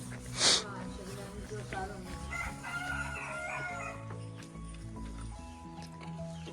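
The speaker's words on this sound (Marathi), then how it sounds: "अजून कोमरा आरवतो आहे" A rooster crows once, short and fairly clear near the start, over a steady outdoor background in a village while people talk nearby.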